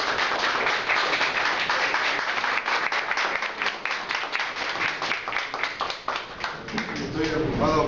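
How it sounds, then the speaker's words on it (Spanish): Steady, dense applause from an audience at a Peruvian painting exhibition, with clapping sustained loudly throughout and no voices breaking through. "El aplauso que se merece."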